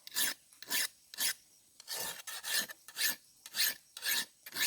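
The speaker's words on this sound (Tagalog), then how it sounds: "Kunting hasa lang ito sa yung hasaan talaga." A bolo knife is drawn across a sharpening stone in nine separate scraping strokes, each a close, gritty rasp with brief pauses between, steady in rhythm and with no talking.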